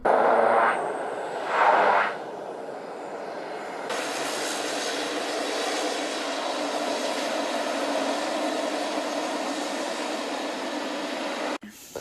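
Airplane landing at a steep, dangerous airport in France, its engine roaring steadily and close for several seconds before cutting off abruptly.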